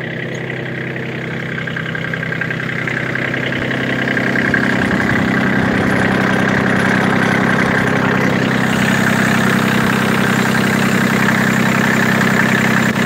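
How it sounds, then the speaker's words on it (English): Small car engine, a motor about the size of a shoebox, idling under a raised hood: a steady close hum with a firm low drone that swells slightly around four seconds and then holds even. "Look at this motor. It's no bigger than a goddamn shoebox."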